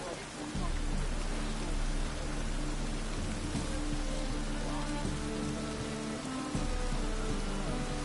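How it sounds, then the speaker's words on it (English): Steady rain hiss in The Witcher game, broadband and continuous at moderate level with low droning ambience beneath, no talk over it. "Looks like rain."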